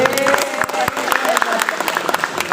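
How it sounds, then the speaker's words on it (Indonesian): A crowd applauds briskly, dense clapping throughout with a voice speaking Indonesian over it, in a teachers' training hall. "Tepuk tangan untuk kita."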